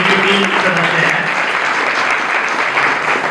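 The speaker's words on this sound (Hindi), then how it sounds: "तो आपके लिए भी जो है तालियां हो जाएंगे" A room of students applauds at a youth workshop on the PM Mudra loan and the Mera Yuva Bharat scheme. The clapping is loud, steady and dense for the whole stretch, with a faint voice now and then underneath.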